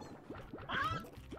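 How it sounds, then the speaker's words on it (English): Rooster creature from the video game Slime Rancher, a short run of squawky, honking calls with a brief louder cry in the middle, fairly close and heard without talk over game background. "Rooster."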